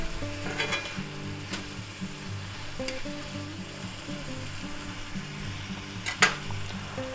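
Seasoned peppers and onions frying in a pan with salt, pepper and garlic powder, a constant close sizzle broken by several sharp scrapes and clinks of a utensil stirring against the pan.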